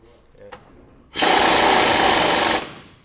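Power tool running on a bolt of a Chevy K30 square-body truck, a single loud broadband burst of about one and a half seconds after a faint tap, then stopping.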